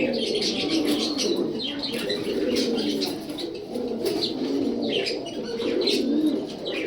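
Martin breed racer pigeon chicks cooing in repeated soft, throaty bursts, close by and fairly quiet, with faint chirps and a little wing movement.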